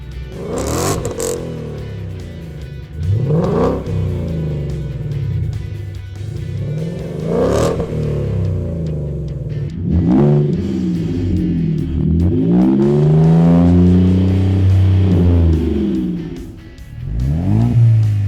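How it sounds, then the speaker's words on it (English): A car fitted with a Magnaflow performance exhaust revs hard several times, each deep, rumbling burst rising and falling, close and loud, followed by a longer sustained rev toward the end. "And then there's that deep, unmistakable Magnaflow sound."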